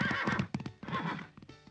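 A cartoon horse whinnies in a loud, wavering neigh that breaks into several rising and falling bursts, close and alone with no talking.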